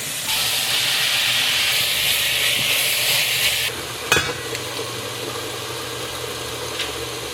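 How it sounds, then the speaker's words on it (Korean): Marinated pork belly being stir-fried in a pan for spicy pork, a loud hissing sizzle that suddenly drops to a softer steady fry after a clattering stir, close by and without talk. "이제 이 고기를 10분 정도 재워가지고 볶아줄게요"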